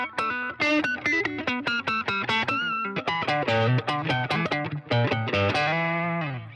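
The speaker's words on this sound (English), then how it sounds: "doing what's known as pinch harmonics" Heavily distorted electric guitar playing a greasy riff with pinch harmonics, loud and close, with choppy repeated notes and squealing high overtones ringing out near the end, no voices.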